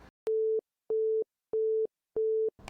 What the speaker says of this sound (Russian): На второй звонок Ромка не отвечает